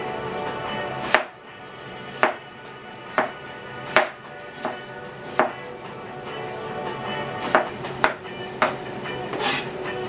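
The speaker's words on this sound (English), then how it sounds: "how am I going to cut this onion? I'm going to take the ends off right now." A knife chops through an onion on a cutting board, trimming off the ends for a broccoli pasta salad, with about a dozen sharp, close knocks spaced irregularly over a faint background hum.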